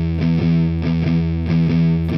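Distorted electric guitar plays a riff with a swung, long-short eighth-note feel, loud and chugging with uneven spacing between the muted attacks, unaccompanied.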